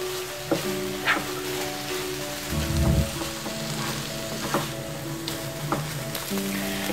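Carrot halwa with milk powder stirred in a pan, a continuous low sizzle with periodic scraping strokes, one heavier thud-like stir, and a steady background hum.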